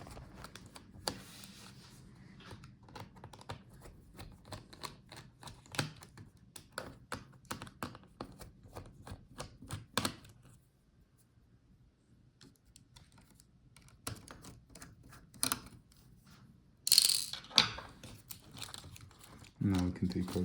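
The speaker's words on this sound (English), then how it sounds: "now let's take out all the remaining screws" Small screws are removed from an Acer Nitro 5 AN515 laptop with a screwdriver during disassembly, making faint clicks, taps and ticks in an irregular rhythm, close and quiet, with a short louder rattle late on.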